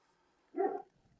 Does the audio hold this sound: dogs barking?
yes